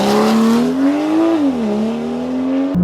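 Straight-piped BMW M2 on a launch control run, a loud, close engine note rising in pitch, briefly dipping, then climbing again with a sharp gear-change drop near the end, no voices.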